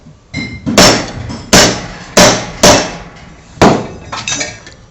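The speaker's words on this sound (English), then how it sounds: "drop it in your vise, socket on the top, just give it a light tap, a couple of light taps onto" Light hammer taps on a socket set over a bolt head clamped in a vise while making a tool for a bent motorcycle fork leg: five sharp metallic strikes at uneven intervals, each ringing briefly before fading, close and fairly loud.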